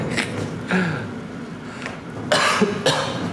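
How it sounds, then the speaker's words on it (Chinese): Several sharp, close coughs burst out in quick succession from a person on a Douyin livestream, loud and irregular, separated by brief quiet gaps, with no speech over them. "气得我直咳嗽"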